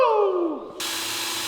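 An electric drill whines down in falling pitch as it slows, then gives way to a sudden, steady broadband roar, loud and close, all in about a second and a half.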